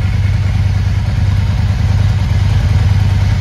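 A Yamaha XV 535 Virago motorcycle engine runs in a garage, a loud, steady, close-up idle with a rhythmic low throb and light mechanical clatter.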